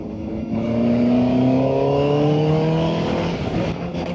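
Voge RR 500 S motorcycle engine held around 5,000 RPM while riding, a steady loud drone with rising harmonic lines as the revs climb slightly, with wind rush over the top and no talking.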